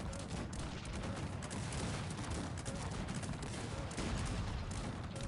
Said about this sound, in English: Shooting is about to begin.